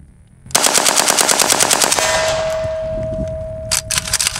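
An AK-12 assault rifle rips off a rapid full-auto burst at close range, dense evenly spaced shots with metallic clanging and a ringing tone after, followed by a few more quick shots at the end.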